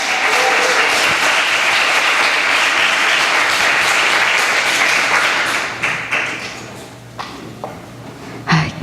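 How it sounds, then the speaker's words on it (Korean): A crowd applauds to welcome a missionary at a Christian gathering. Loud, sustained clapping from many people thins after several seconds into scattered, separate claps. "박수로 환영하겠습니다."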